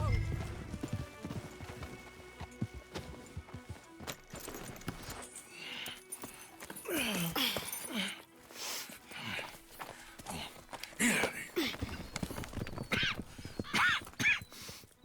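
Horses in the Red Dead Redemption 2 video game: hooves clip-clop in an uneven walking rhythm, with snorts and whinnies mixed in over outdoor ambience, fairly close and moderately loud.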